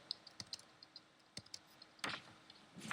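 Quick bursts of computer keyboard keystrokes, isolated taps and short clusters of clicks, close and fairly quiet in a still room.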